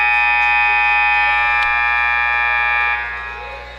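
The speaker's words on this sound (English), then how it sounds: "That's the buzzer went." A buzzer sounds at a junior B lacrosse game, a loud, steady electronic tone held for about three seconds before it fades into arena ambience.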